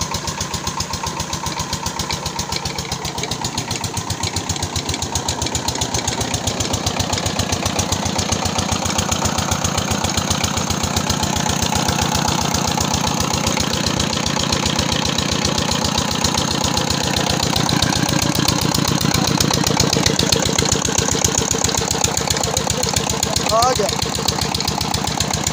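A Petter engine after piston ring and sleeve replacement runs steadily at idle, a continuous close mechanical drone with a rapid regular pulse and slight knocking throughout.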